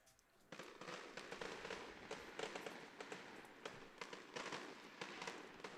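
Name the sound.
fireworks going off nearby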